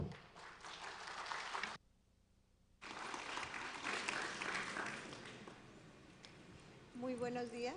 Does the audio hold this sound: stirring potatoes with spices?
no